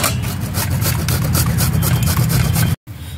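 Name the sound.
onions and chillies being rubbed/mashed by hand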